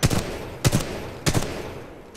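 Weapon fire on a target practice range in the video game Titanfall 2: three sharp shots or short bursts, evenly spaced about 0.6 seconds apart, each followed by a brief ringing tail, loud and close with no talking.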